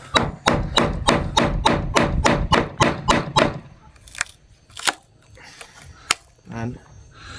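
A tool thumps into wood around a screw on a boat, a rapid run of about a dozen sharp, even, close knocks that then thins to a few scattered hits, with people talking nearby.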